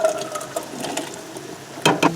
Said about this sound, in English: You're going to take this and add the entire can.